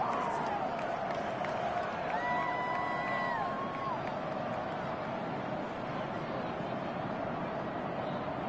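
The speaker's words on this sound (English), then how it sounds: "This crowd, boy, in a state of shock." Video-game stadium crowd in Madden NFL 25 during a Giants versus 49ers game, a steady dense roar of many voices with a brief rising whistle-like tone, continuous and loud throughout.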